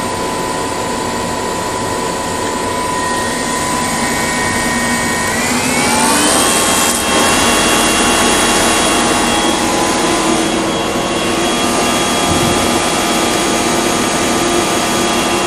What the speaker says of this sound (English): what I'm going to do now is increase the speed of the alternator